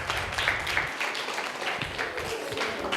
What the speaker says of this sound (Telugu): గట్టిగా చప్పట్లు కొట్టుకుందాం